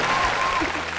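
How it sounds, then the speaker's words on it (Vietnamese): A studio audience on a Vietnamese family TV show breaks into steady applause that fills the whole moment, with a voice briefly audible under the clapping. "vỗ tay. Vỗ tay."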